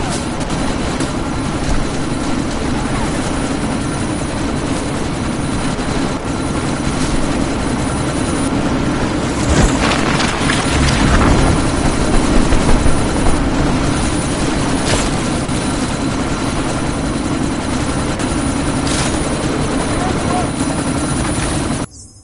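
Helicopter rotor and engine noise from the video game Deus Ex: Mankind Divided, a steady loud drone throughout, with a louder swell midway and the game's radio voices talking over it.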